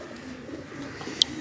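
Pigeons coo softly in a low, steady drone nearby, with one brief sharp chirp standing out near the end.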